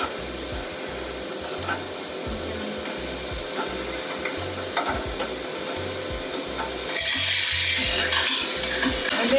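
Coffee roaster drum turning during a small-batch roast of fine robusta beans, a steady rhythmic tumbling and scraping with faint crackle, continuous and close, then a louder hissing rush near the end.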